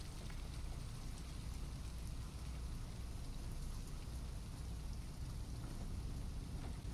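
Steady rain pours in Little Nightmares 2, a dense, even hiss of drops on surfaces with a low rumbling undertone, constant and fairly near throughout with no voices.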